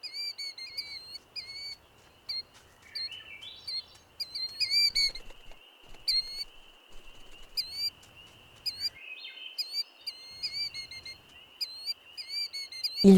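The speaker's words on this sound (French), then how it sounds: "Le retour de Patte Blanche fait réagir les oiseaux." Repeated bird alarm calls greet a returning wolf in wild wolf country: sharp, high chirps and whistles in quick bursts, some close and loud, others fainter, over a quiet background with a low rumble now and then.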